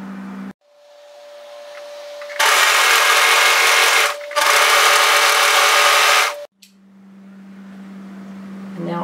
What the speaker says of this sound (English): Now I'm sewing from the cuff edge, which is the arm, all the way through to the neckline.